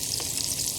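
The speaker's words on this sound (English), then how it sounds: "dealing with frying this up" Liver and onions fry in a pan outdoors, a steady close sizzle and hiss that holds constant with no break, no one talking.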